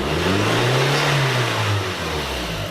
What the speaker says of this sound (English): Sounds like your exhaust is blowing to me.